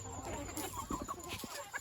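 A chicken gives a few soft, quick clucks close by over low background noise.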